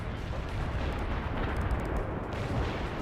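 An artillery barrage in the video game World in Conflict, with continuous rumbling explosions and thudding impacts that blend into a steady, loud roar for about three seconds.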